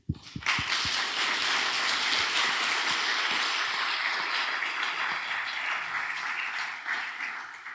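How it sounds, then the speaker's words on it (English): Audience applause closing an evening session for the National Integrity Scan report, a few sharp claps, then dense, sustained crowd clapping that holds steady and tapers slightly toward the end. "I ask for a big round of applause for Stichting Deugdelijk Bestuur"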